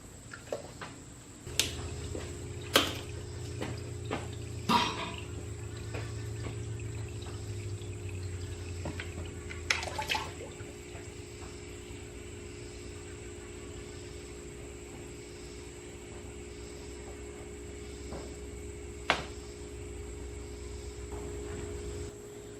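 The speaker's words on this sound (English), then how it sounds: "Next thing I'm going to be doing is draining the pan here for the CVT." CVT transmission fluid drains from the pan of a 2017 Subaru Forester as a steady, continuous liquid trickle under a constant background hum, with a few scattered metallic clinks and taps over more than twenty seconds.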